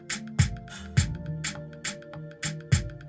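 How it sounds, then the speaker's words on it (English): A muted bass line with the low end filtered off plays alone in a steady groove, short plucked notes landing in a regular rhythm with thin, clipped attacks. "I took a muted bass, and I filtered it, cut off the low."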